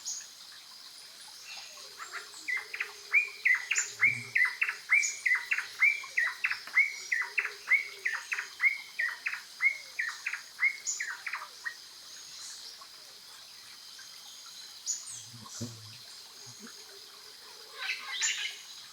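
Several songbirds sing in repeated bright chirping phrases, a steady run of calls across the middle of the stretch with fainter birdsong and soft insect-like hiss around it, no voices.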